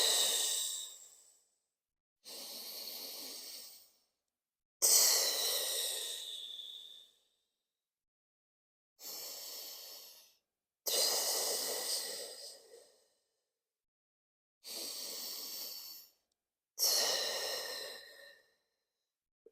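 Seven deep, separate breaths during a mat Pilates exercise, each a close, airy inhale or exhale of about two seconds, spaced by short silences and with no talking.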